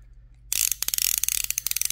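An old, dirty, uncleaned fishing reel on an old-school rod is wound by hand, producing a rapid, close ratcheting click-click that starts abruptly and runs steadily, with no voices.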